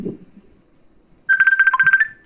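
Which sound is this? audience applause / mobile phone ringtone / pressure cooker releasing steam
mobile phone ringtone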